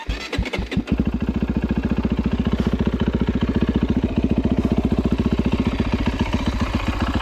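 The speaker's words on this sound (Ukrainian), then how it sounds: "Зараз давайте заведемо цей мотоцикл, послухаємо, як він звучить" A Chinese-built enduro motorcycle with a KTM engine cranks a few times, catches, then settles into a fast, steady idle with rapid even thumping pulses, close and loud.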